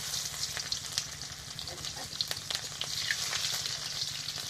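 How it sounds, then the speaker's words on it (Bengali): Oil sizzling and crackling steadily as chopped onions fry in a pan with cumin, with occasional sharper pops and stirring clicks, close and moderately loud. "এবার আমি যে কুচনো পেঁয়াজটা দিয়ে দেবো"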